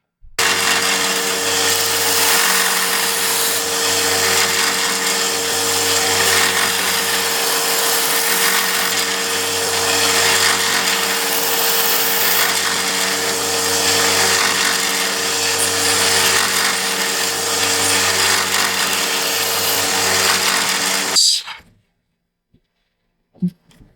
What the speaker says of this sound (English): what I'm going to do is do it just with the belt sander to get in there and do that